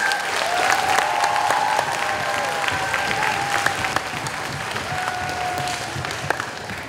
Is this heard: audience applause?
yes